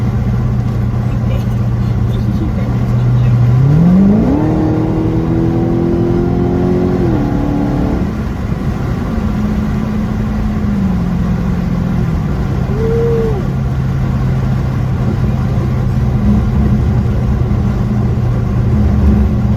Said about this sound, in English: Man, that exhaust is crazy.